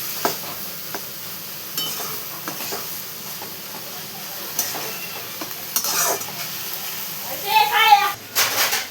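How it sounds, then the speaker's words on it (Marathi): Dried small shrimp cooking in a pan, with soft stirring and sizzling crackle running throughout at close range, while a voice talks over it near the end. "आपला जवळा किती छान असा मस्त शिजत आहे आता"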